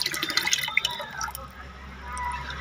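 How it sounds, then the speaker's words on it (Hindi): Water keeps running from an outdoor tap in cold weather, a close splashing and dripping stream that starts bright and busy, then settles into a steadier, fainter flow. "गाइस पानी अभी तक आ रहा है।"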